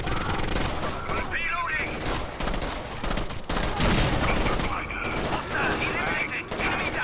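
Rainbow Six Vegas 2 firefight with dense, rapid automatic gunfire in loud sustained bursts and overlapping shots, close and continuous for several seconds, while players talk underneath.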